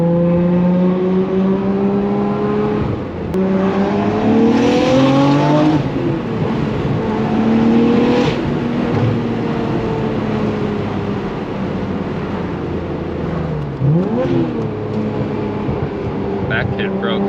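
A Nissan R34 GT-R with a stroked RB28 engine, universal valved mufflers and free-flow downpipe, accelerating hard through several gear changes, its rising engine note loud and close inside the car, with people talking over it.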